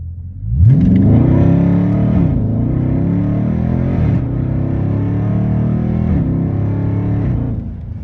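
A 392 Scat Pack with a swapped-in supercharged Hellcat engine revs loudly and steadily nearby, a deep droning roar that rises and dips slightly across several seconds.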